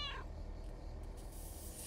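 A cat meows once briefly at the start in the video game Lake, a short clear meow followed by quiet low background ambience.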